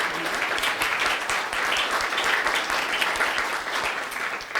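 Audience applause at a conference talk, a dense burst of clapping from many hands that holds steady and loud throughout.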